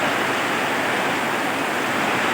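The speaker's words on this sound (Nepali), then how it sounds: "बडो पानी पऱ्यो त नि पुरा" Heavy rain falls in a village on a rainy day, a dense, constant roar of broadband hiss that stays loud and unbroken throughout.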